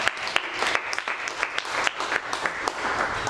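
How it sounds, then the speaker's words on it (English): A meetup audience at a JAMStack Denver tech gathering claps for the organizers, brisk and fairly close, with a few sharp individual claps standing out from the steady applause. "So let's give them a round of applause."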